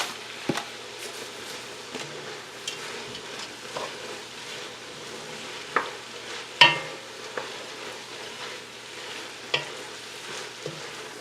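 Bacon pieces returned to a pan for haluska sizzle softly at a moderate distance, with intermittent clicks and scrapes of stirring scattered through the steady frying hiss.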